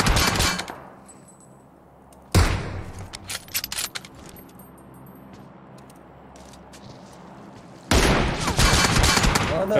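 Gunfire in PUBG Mobile: loud bursts of rapid automatic fire at the start, middle and end, separated by quieter stretches with scattered shots and faint background sounds.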